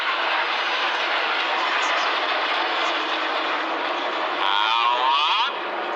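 Red Arrows jets fly in formation at a seaside air display at Clacton, a loud, continuous broadband roar holding steady throughout, with a brief swelling, phasing whoosh near the end as the aircraft pass.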